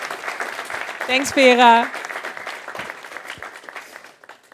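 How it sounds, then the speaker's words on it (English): A conference audience applauds two speakers, Vera and Fabian, at a tech event, with loud steady clapping throughout while someone speaks briefly over it near the middle. "Vera and Fabian, give them a really loud applause."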